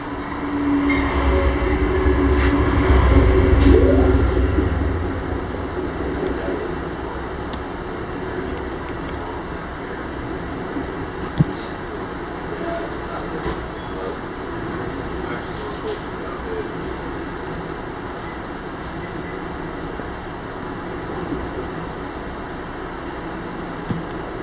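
The southbound Coast Starlight passenger train passes, a broad rumble that swells early, then holds as a steady, moderately distant roar with faint wheel squeals.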